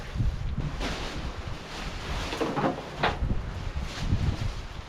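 Steady wind roars and buffets the microphone in gusts, broad and noisy, with no voices present.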